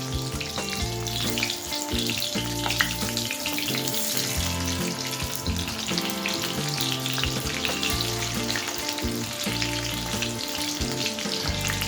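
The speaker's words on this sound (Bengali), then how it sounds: "পেঁয়াজটাকে হালকা করে ফ্রাই করে নেব।" Halved medium and small onions fry in hot oil for chicken curry. A dense, continuous sizzle carries on at an even loudness, partly covered by steady background music. No voices are heard.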